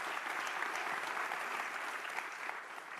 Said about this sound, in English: give all of our NYPD leadership a round of applause